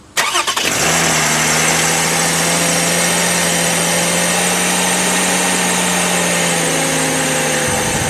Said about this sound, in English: So now all we need to do is start the car.